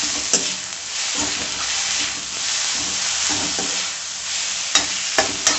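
Tomatoes with salt and turmeric frying in a pan: a steady close sizzle with soft periodic stirring scrapes, and a few sharp clinks of a utensil against the pan near the end.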